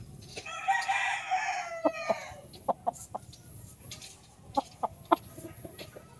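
An imported gamefowl stag on a game farm on a rainy day crows once, near and loud, then follows with scattered short clucks and calls against a soft background hiss.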